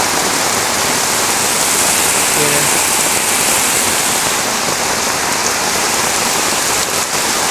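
Heavy rain pours down steadily, a dense loud roar of water with no pauses, flooding the area around a village mosque where streams and canals have overflowed.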